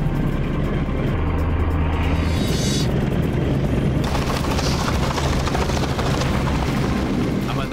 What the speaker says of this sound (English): the furious prop wash from the plane's engines